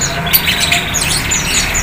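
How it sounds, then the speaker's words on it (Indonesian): Javan myna squawks and chirps several times at a busy bird market, harsh calls rising over a constant background murmur. "Jalak kebo"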